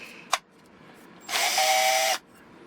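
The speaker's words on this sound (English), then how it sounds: "I'm going to drill in there as square as possible" An electric drill bores into a part while a twin-boom RC glider is built, giving one close, steady whine of roughly a second between quiet stretches with no talk.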